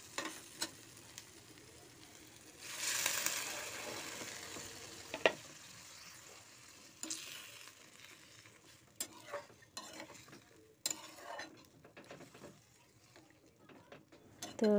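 Masala for a dried fish curry is stirred in a pan, with a soft sizzle of frying under scraping spoon strokes and occasional clinks of utensil against the pot. A short louder burst of sizzling comes early on.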